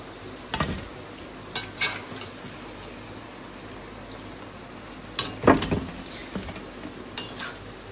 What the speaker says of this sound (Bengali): এবার এটা ডিপ ফ্রাই হবে, ততক্ষণ তোমরা একটু ওয়েট করো।